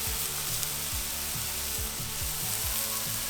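Spiced honey bacon frying on a flat top griddle, giving a loud, dense, continuous sizzle and crackle with a steady low rumble beneath.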